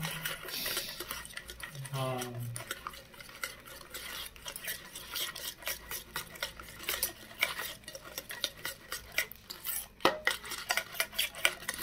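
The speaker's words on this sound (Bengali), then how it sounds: "এবার এটাকে ভালো করে মিক্স করে নেব।" Spice marinade for tandoori chicken with chaat masala is mixed in a bowl, giving steady scraping and clinking of a spoon against the dish throughout, with a brief voice-like tonal sweep early on.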